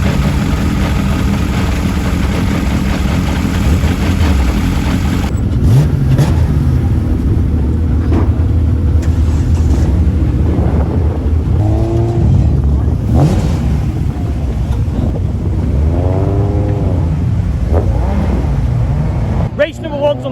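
Loud, continuous engine roar of a Vauxhall Cavalier GSi classic touring car and others racing at Thruxton Circuit, with a steady drone throughout and voices talking over it.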